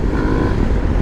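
An Aprilia Tuareg 660 motorcycle engine drones low and steady while riding off-road, a close, loud rumble with wind buffeting over it for about a second.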